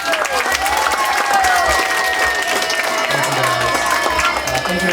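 A crowd applauds and cheers for Olympic swimmer Jacob Pebley at an indoor gathering, loud continuous clapping with scattered voices and whoops throughout.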